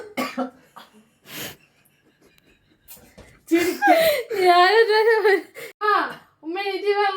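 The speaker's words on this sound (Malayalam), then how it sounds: "ചുമ കുറയണില്ലല്ലോ" At home, a child gives a few rough coughs early on, then talking and light giggling fill the rest, with another short cough-like burst breaking in among the voices.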